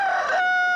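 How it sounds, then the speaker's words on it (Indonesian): A rooster crows once, a short, bright, close call that rises and then holds a steady tone before cutting off. "suara ayam berkokok."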